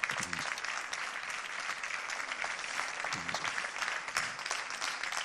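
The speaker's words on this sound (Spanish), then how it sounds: "Pues un aplauso muy grande." An audience applauds after a talk on law, public ethics and populism held in an old church, steady dense clapping that continues evenly throughout, with a faint voice briefly underneath.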